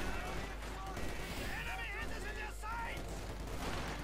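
Gunfire and an MG42 machine gun rattle through a Company of Heroes 2 battle: a dense, steady wash of distant shots and explosions, with game sounds layered over it and a voice talking throughout.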